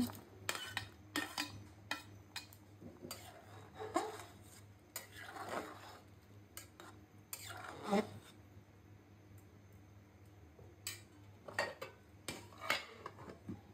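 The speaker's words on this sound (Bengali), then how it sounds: "এখন দিয়ে দিব হলো এই টমেটো, কাঁচা টমেটো গুলো।" Raw tomatoes go into a pan of vegetables cooking with dal (lentils), with repeated close clinks and clatters of a utensil against the pan in an irregular rhythm and no talking.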